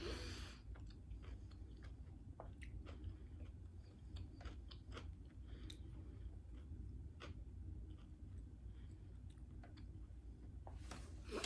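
Someone chews a mouthful of rye bread with red onion close up, a faint, steady run of soft crunches and moist clicks with no speech.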